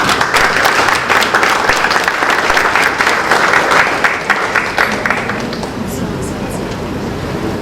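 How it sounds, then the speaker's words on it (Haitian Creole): Sustained applause from an audience at a workshop event in Haiti, dense steady clapping filling the room for several seconds before thinning slightly toward the end. "je vous demande de les applaudir"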